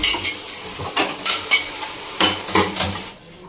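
Marinated chicken sizzles in a pan while a utensil stirs and scrapes against the metal, giving loud, irregular clatters over a constant frying hiss; no one speaks.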